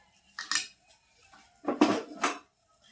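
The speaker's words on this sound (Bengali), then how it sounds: "দিয়ে এখন কড়াই ধরে নামিয়ে নেবো" A metal kadai of chicken kosha lifted off a gas stove, giving two bursts of metallic scraping and clanking separated by quiet, close and fairly soft.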